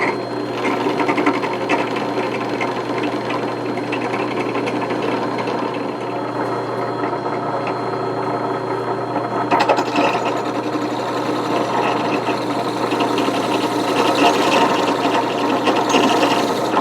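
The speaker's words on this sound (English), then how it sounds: "we're drilling through the micarta handles" Continuous whirring, grinding drone of a drill boring through micarta knife handles on a vintage butcher's knife, steady for the whole stretch with slight shifts in pitch.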